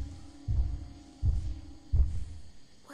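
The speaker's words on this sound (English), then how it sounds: "Is that my heartbeat?" Three deep, thumping heartbeat pulses from the video game Lethal Company, evenly spaced and fairly loud over a low background hum, with no talking.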